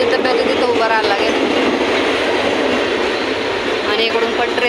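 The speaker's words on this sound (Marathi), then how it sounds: "आणि इकडून पण ट्रेन जातात बघा." A suburban train rumbles and clatters loudly through a Mumbai railway station near Goregaon, with continuous wheel noise and rhythmic clicks of the cars, while a voice is heard faintly under the roar.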